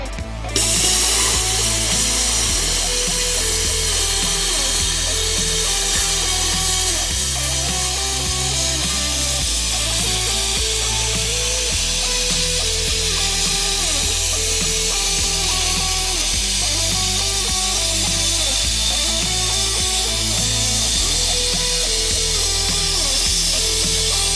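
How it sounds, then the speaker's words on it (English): A plasma cutter slices through metal freehand, giving a loud, continuous hiss and buzz with a steady humming drone underneath, sustained without a break from start to finish and with no talk. "this plasma cutter is a very nice, quick, easy way to cut things up"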